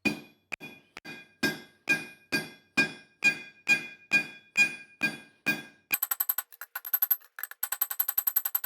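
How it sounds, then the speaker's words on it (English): A hammer's round face taps steel on an anvil while forging a slingshot, a dozen evenly spaced ringing strikes followed by quicker, lighter clinking bursts, close and clear. "I'm just going to use the round side of my hammer and just tap"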